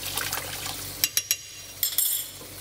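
Water used to wash lamb shank meat is tipped out of a pot, giving splashing pours and a few sharp clinks of metal or glass over a couple of seconds.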